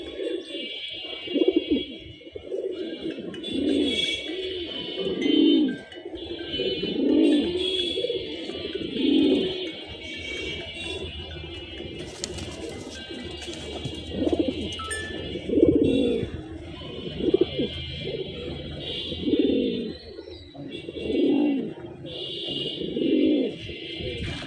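Giribaz pigeons coo steadily in low, throaty, repeated rolls, overlapping from several birds close by, with faint higher chirps above.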